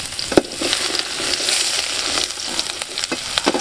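Garlic, ginger and green chili frying in hot oil for pineapple chicken, a loud crackling sizzle broken by sharp clicks and scrapes of stirring, close and busy.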